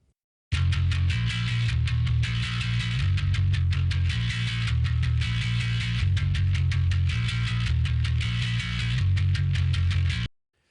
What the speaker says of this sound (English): Tracked it with a P bass.